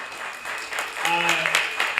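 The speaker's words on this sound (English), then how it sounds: "if we can give every one of these candidates a big round of applause" Audience applause for school board candidates at an Atlanta candidate forum, a steady crowd clapping across the whole stretch, with a voice rising over it in the second half.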